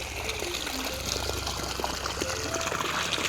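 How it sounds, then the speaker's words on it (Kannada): Water from a pump gushes and trickles into a dry paddy field in a village, a steady rushing flow heard up close with faint chirps and low background sounds around it. "ಇದು ಪಂಪಿನಿಂದ ನೀರು ಬಿಟ್ಟಿದ್ದಾರೆ ಗದ್ದೆಗೆ."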